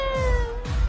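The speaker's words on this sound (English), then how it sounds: "You want to play with the kitty?" A cat's single short meow, close and fairly soft, a sustained tonal cry lasting under a second with a faint low rumble beneath it.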